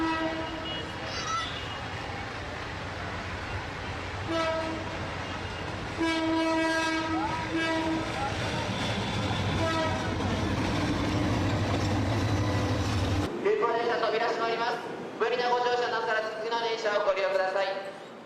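A crowded pilgrim train carrying pilgrims to Bishwa Ijtema passes with its horn blaring in several long tonal blasts, under a constant din of rail noise and a busy crowd, with a sharp change partway through.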